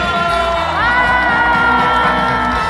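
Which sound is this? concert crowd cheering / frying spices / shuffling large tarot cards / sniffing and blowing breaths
concert crowd cheering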